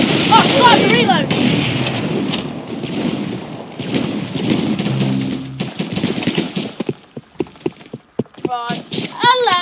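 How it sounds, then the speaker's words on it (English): In a video game, a sniper rifle reloads and fires, with sharp shots and clicks clustered toward the end. Excited voices sound at the start and finish. "Oh, sniper reload!"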